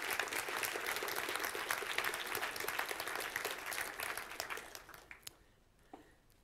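Applause from the floor of a Norwegian party congress, a broad continuous clatter of many hands that holds steady and then fades away near the end.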